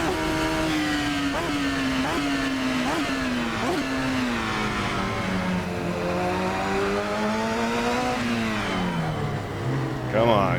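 Radical SR3 XXR race car engine in a racing video game, a steady high-revving drone with repeated quick gear-shift dips and rising pitch sweeps, loud and continuous throughout.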